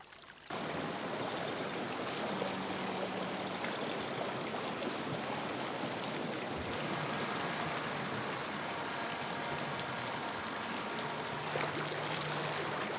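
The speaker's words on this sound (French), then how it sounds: "Elles permettent la vidange d'une rizière plus haute au profit d'une rizière inférieure." Water draining from a higher rice paddy into a lower one in Vietnam, a steady gurgling and trickling flow that starts abruptly and continues evenly, close and moderately quiet.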